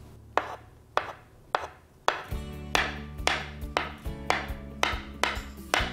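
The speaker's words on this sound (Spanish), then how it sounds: "Ahora voy a picar los huevos" Boiled eggs chopped with a knife on a cutting board, a series of about a dozen sharp, close chops in an uneven rhythm, each thud clear and distinct against a quiet kitchen background.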